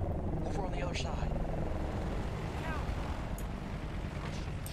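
Russian helicopters in the video game Battlefield Bad Company 2 give a steady loud rotor drone and rumble that fills the whole clip, with faint high sweeps and whistles over it.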